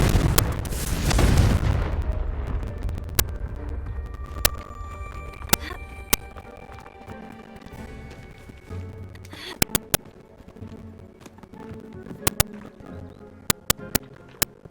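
Confringo blasting spell from Hogwarts Legacy exploding with a loud, deep boom at the start that rumbles and fades, followed by scattered sharp cracks and pops of debris later on.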